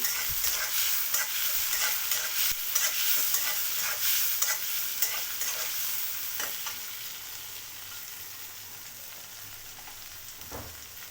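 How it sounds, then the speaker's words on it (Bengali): Onion frying in a pan with chopped tomato added gives a loud, continuous close-up sizzle. Occasional scraping and tapping from stirring cuts through the hiss, which eases slightly toward the end. No voices. "পেঁয়াজটা একটু লাল লাল করে ভেজে নেব টমেটো কুচি দিয়ে দিচ্ছি"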